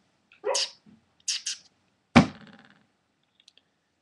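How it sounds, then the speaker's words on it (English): A dog named Harley having a sudden fit: a few short, breathy snorting bursts, then a sharp close thump with a brief rattling decay, followed by quiet. "My dog was like having a weird spaz attack."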